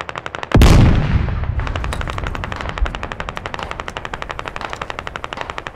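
In a squad shooter video game, a loud close burst opens a run of rapid, evenly spaced machine gun fire that keeps rattling at a fast steady rhythm until the end.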